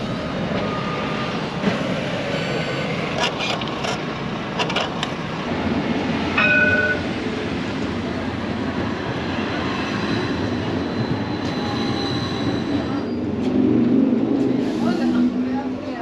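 A city centre tram heading out to the airport rolls along steadily with a continuous low rumble and rail noise, a soft rise near the end, while a voice talks over it.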